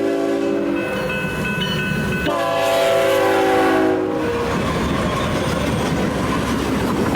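A freight train led by three GE Evolution locomotives races past at speed, sounding a loud chorded horn that cuts off, followed by a heavy roar and rattle of wagons close by.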